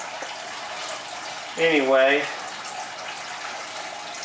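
Water pours steadily into a planted aquarium tank during a water change, a constant close rushing hiss that runs the whole way through while someone speaks briefly over it.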